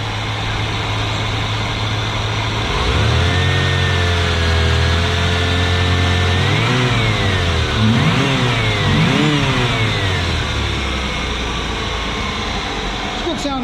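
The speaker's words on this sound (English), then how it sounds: "Give her a couple of revs here." A 1995 Ford Mustang GT with a 5.0L 302 V8 idles steadily up close, then is revved several times in short rising and falling bursts before settling back to a rough idle.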